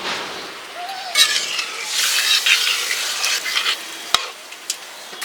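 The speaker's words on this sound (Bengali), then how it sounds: "এখন উতলাইছে" A pot of curry with crab and pumpkin greens, seasoned with turmeric and salt, comes to the boil, giving continuous close bubbling and sizzling with stirring scrapes and a sharp clink.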